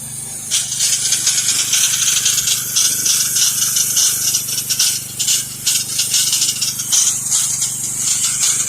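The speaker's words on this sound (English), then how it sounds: "That is the sound of my dipstick has come out." A pressure washer with a Kohler engine and AR pump runs loudly with its dipstick come out, giving a steady close engine roar with bright hissing spray and a dense rattling texture throughout.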